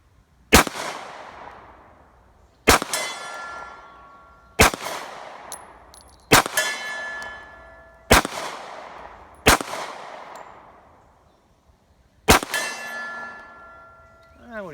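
Seven pistol shots from a Rock Island 1911 Compact .45 ACP fired at a steel target roughly 35 to 40 yards away, loud cracks at uneven intervals, some followed by a ringing metallic clang from the struck steel.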